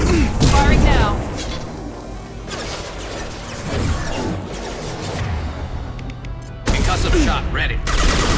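Gunfire and explosive booms in the Mass Effect 2 video game, dense bursts of shots and crashes amid combat noise, with voices speaking over the action.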